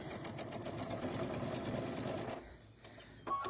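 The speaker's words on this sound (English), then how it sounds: "I'm just using that Q2 stitch and my J-foot and stitching 1/4 inch on each side." A sewing machine with a J-foot runs a Q2 stitch along quarter-inch seams for a tabletop banner, whirring rapidly and steadily up close, then stopping, with a brief restart at the end.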